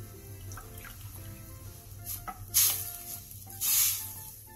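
Water poured into a soup pot on the stove for a Korean soup or stew, 600 ml with two spoons of soup soy sauce, heard as two short splashing bursts over a quiet kitchen background.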